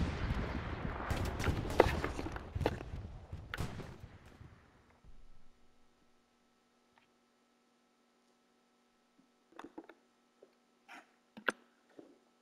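Bombing run explosions in a video game: a loud cluster of heavy blasts and booms over the first few seconds, then near silence broken by a few scattered distant thuds.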